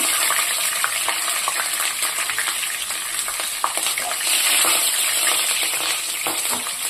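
Green chillies fry in a pan of hot oil with split moong lentils in a home kitchen. The sizzle is close and continuous, with light stirring scrapes and no voices.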